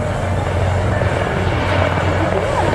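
A model helicopter's rotor and engine whir steadily and loudly during aerobatic flight, a constant buzzing drone that holds level throughout.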